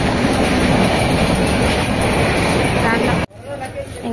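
Loud, continuous rattle and roar of a train at Perambur railway station in Chennai, with steady clatter that cuts off abruptly near the end, leaving quieter platform ambience.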